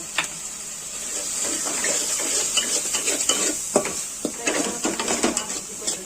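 Gram flour is roasted in a pan for a Dasara meal, with scraping stirring strokes and a soft sizzle close by and a faint voice in the background.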